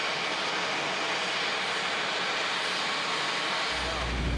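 A helicopter struggling to stay airborne before crash-landing into the Hudson River in New York City in 2019 makes a steady, broad engine roar. A deep low rumble swells in near the end.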